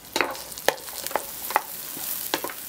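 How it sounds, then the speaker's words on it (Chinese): Scallion, ginger and bird's eye chili stir-fried in hot oil in a farmhouse kitchen, a steady sizzle punctuated by about six sharp spatula scrapes against the pan at irregular intervals, close, with no talking. "炒葱姜小米椒"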